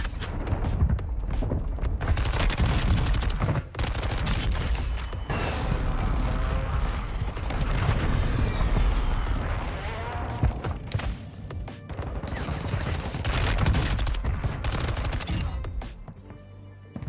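Bursts of gunfire from an MX9 submachine gun in the Warzone 2 video game, loud and nearly continuous rapid volleys with brief gaps, mixed with mechanical clatter across a long firefight.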